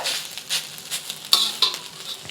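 Rice sizzles and crackles in a hot pan as it is heated and fried for Hong Kong style baked pork chop rice, a constant close fizz broken by a few sharper pops and stirring scrapes.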